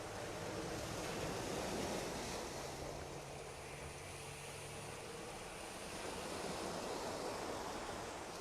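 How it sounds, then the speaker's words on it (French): Ocean waves wash in a steady, unbroken roar of broadband surf noise, with a faint low hum underneath and no distinct breaks between swells. "Le petit bruit des vagues, si vous l'entendez,"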